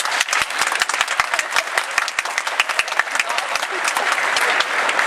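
A comedy-show audience in a hall breaks into loud, sustained applause, many sharp individual claps blending into a continuous roar that holds for about five seconds.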